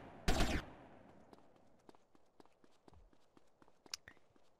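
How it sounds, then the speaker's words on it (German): M4 rifle fire in a video game: one loud, sharp burst near the start, then a series of fainter, regular clicks and taps at a distance. "Pacho ist entdeckt worden. Schießt mit der M4."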